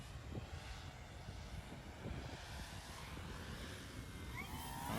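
An RC 3D foam airplane comes in to land toward the camera in brutal wind, its steady motor drone holding loud and close throughout and swelling slightly at the end, over heavy low wind rumble.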